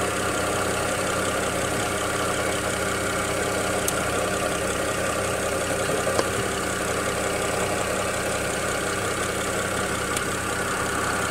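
A BMW X6 E71 with a rough-idle fault idles steadily, its low engine hum continuous and unbroken with a few faint ticks, heard up close with no talking.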